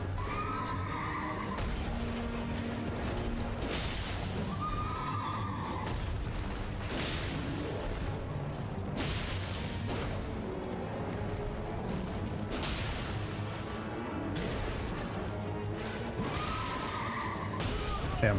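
A horse in Elden Ring whinnies several times, with rising and falling neighs recurring through steady, dense combat clatter and crashing.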